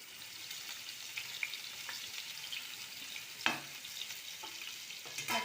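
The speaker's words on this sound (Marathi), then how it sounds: "आपल्याला हा लसूण गोल्डन ब्राऊन असा कलर येईपर्यंत फ्राय करून घ्यायचा आहे।" Small pieces of chopped garlic frying in oil in a pot already used for frying paneer, giving a steady soft sizzle with light stirring clicks and scrapes, fairly quiet and close, no talking.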